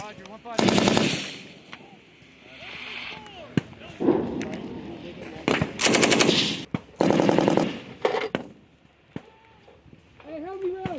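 US Marines fire M240B machine guns during platoon defense drills, loud sustained automatic bursts separated by short pauses, with voices calling out between the volleys.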